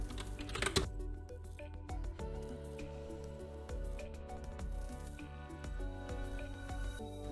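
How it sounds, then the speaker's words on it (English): Rapid keystrokes on a computer keyboard while a command is typed into a command prompt, close and fairly quiet, with irregular bursts of clicks and short pauses and no talking. "So type this command to install this library."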